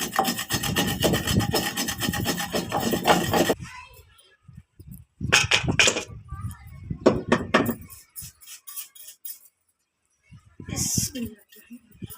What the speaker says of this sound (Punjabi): ਗਰਮ ਮਸਾਲਾ ਰਗੜ ਲਵਾਂ ਮੈਂ